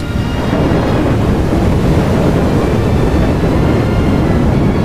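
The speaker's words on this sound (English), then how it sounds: "Aggressive thunderstorms rage in Jupiter as you fall through the planet" A heavy, continuous roar of storm and thunder, meant as an aggressive thunderstorm deep inside Jupiter, rumbles loud and steady for several seconds with no talk.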